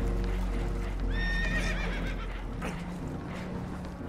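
Spooked horses in the video game Red Dead Redemption 2 let out a clear, rising and falling whinny over a steady low rumble of water and boat noise, with hoof clatter and a few muffled thumps around it.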